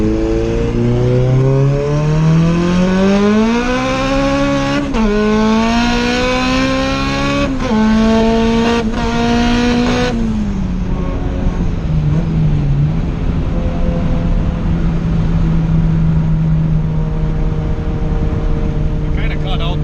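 A turbocharged Honda Civic on low boost pulls hard up a highway on-ramp, its engine note climbing steadily through the gears with brief shift dips, then easing off into a lower drone as it slows; loud, close, with voices talking over it.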